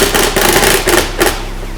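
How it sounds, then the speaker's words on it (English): A high-torque Ryobi power drill drives screws into a tablet holder mount on a Can-Am X3, giving short, loud bursts of whirring and clicking in a quick uneven rhythm, close by. "We've got the very capable UTV Rides Sean on the drill, man in the high horsepower torque Ryobi"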